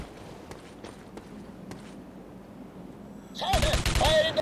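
Bursts of gunfire in the video game Rogue Trooper erupt loudly after a quieter stretch of faint footsteps and clicks, a dense rapid volley near the end.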